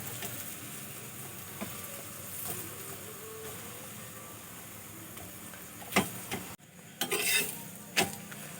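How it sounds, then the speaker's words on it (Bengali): A lachha paratha fries in a pan with a soft, steady sizzle, broken by occasional scrapes and clinks of a utensil that cluster toward the end; no voices. "এইভাবে আমি পরোটাটা ভেজে নেব।"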